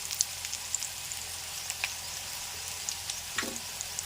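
Mustard seeds and urad dal frying in hot oil for a tempering, a soft, steady sizzle dotted with faint crackles and small pops, no talk.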